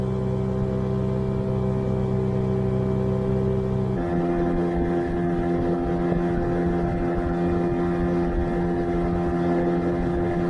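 A motorboat engine drones steadily and loudly on Lake Ladoga, its tone shifting once partway as the hull runs on over the water with wind rushing past.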